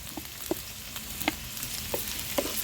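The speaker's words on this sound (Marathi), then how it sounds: "कांदा पण तेला छान परतून घ्यायचे" Finely chopped onions fry in oil over crushed ginger and garlic on a wood-fired clay stove, giving a steady close sizzle dotted with sharp pops and stirring clicks.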